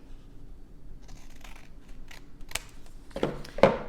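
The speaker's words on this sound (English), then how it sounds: "We're going to cut right on the fold." Scissors snip through folded paper along the fold while making a simple craft puppet, giving a few crisp close cuts near the end after a quiet stretch.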